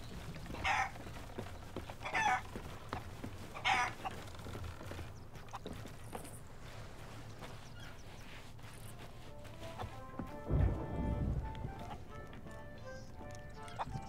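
Chickens in the Sea of Thieves pirate game cluck in short bursts, three quick repeated calls early on, with a louder thud and scuffing later, moderately near over ambient game sound.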